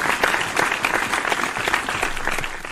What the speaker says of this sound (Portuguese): Tem música do Mani e tem aplausos para Celso Moreira.